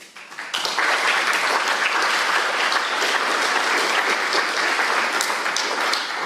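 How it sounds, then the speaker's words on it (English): A conference audience applauds a speaker before her contributed talk on visual processing at a computational neuroscience conference, the clapping rising quickly after a brief lead-in and then continuing as a loud, even, sustained wash. "So please give an applause for Laura."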